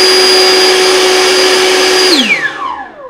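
YARDCARE battery-powered leaf blower with five speeds plus turbo, running at a loud, steady whine for about two seconds, then shutting off as the pitch glides down and the motor spins to a stop.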